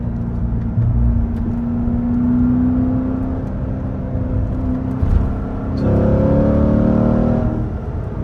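A Chevrolet Corvette engine pulling hard while driving, a loud steady in-cabin drone that rises in pitch as the car accelerates, swells again near the end, and carries a low rumble underneath.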